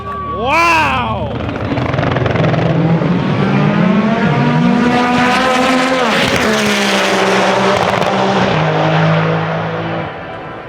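A Nissan GT-R race car tearing through a high-speed run at TX2K23, its engine climbing through gear after gear with a loud, whining wail, while excited voices shout over it.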